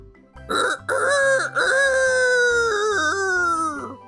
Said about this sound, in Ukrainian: заспівав півень, що якраз сидів на колодязі